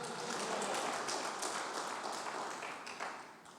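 A church congregation claps their hands together in a dense, steady patter that fills the room and then eases off toward the end.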